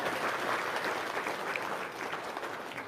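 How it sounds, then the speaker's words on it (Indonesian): An audience claps in a dense, steady burst of applause, close and fairly loud, fading slightly toward the end. "Cep, tepuk tangan dulu dong."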